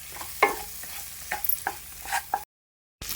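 Okra pieces frying in a pan for a yogurt okra curry, with a quiet sizzle under several sharp spoon-against-pan stirring knocks, then a brief cut to silence before the frying resumes.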